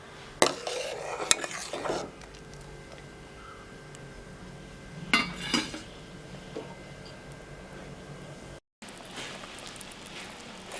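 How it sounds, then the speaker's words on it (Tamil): A spoon scrapes and knocks around a pot of thick aravana payasam, a few sharp metallic clinks in brief bursts separated by quiet stretches of low background hiss. "நல்லா மிக்ஸ் பண்ணிக்கலாம்."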